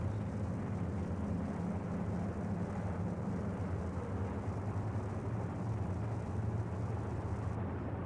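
De Havilland Mosquito DH98 in low flight along a coast in poor visibility, its engines giving a continuous, even broadband drone that stays loud and steady throughout with no speech.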